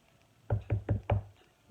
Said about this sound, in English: So he's knocking.